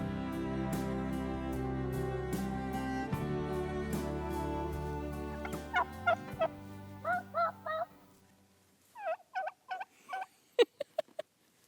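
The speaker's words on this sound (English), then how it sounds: "these are not wild turkeys" Domestic farm turkeys gobble in a series of short, loud bursts that begin over a steady low drone and then stand out more clearly and alone.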